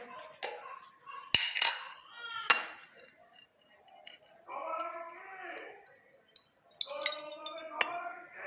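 Plates picked up one by one in a home kitchen, giving several bright clinks and clatters scattered through the stretch, with someone talking between them.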